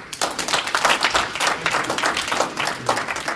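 Audience applauding as a speaker is welcomed onto the stage, steady dense clapping from many hands that runs loud and close from start to finish without talk.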